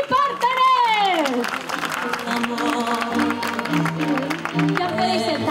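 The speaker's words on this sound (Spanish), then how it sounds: "Un aplauso para nuestro mago y partener." Applause from a children's theatre audience greets a magician and his partner, with clapping running under someone speaking and children's voices throughout.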